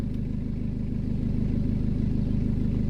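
A BMW E60 engine idles steadily after an alternator regulator repair, giving an even, close low hum with a constant mechanical rumble throughout.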